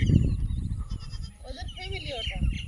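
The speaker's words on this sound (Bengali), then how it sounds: "ছাগলগুলো একসঙ্গে কেমন একটা রেস্ট নিচ্ছে" Goats resting together in a huddle give a few short bleats beneath a person's steady nearby talk.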